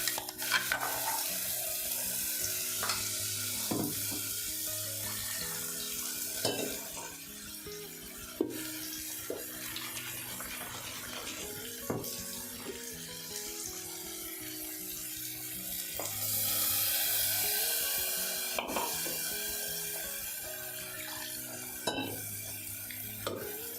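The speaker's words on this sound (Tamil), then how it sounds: "இப்போ நான் அரைச்ச மசாலாவை இதில் போட்டு சேர்த்திக்கலாம்." Ground masala being stirred and fried in a pan for a green pea kurma, a steady sizzle under repeated scraping and stirring strokes, close and continuous with no talking.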